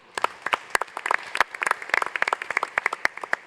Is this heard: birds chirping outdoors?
no